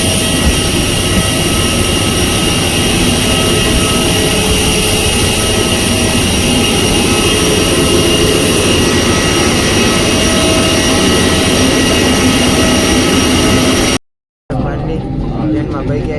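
Steady, loud roar of jet engines and airflow fills an airliner cabin on a flight from Delhi to Rajkot, cutting out briefly near the end.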